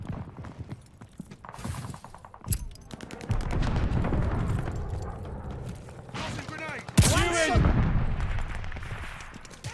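Gunfire rings out during Call of Duty Vanguard multiplayer sniping on the Hotel Royale map, with one loud, sharp rifle crack standing out over rumbling battle noise and scattered shots. Someone talks over the action throughout.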